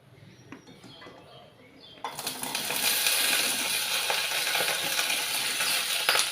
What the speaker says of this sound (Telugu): బెండకాయ ముక్కలు వేస్తున్నాను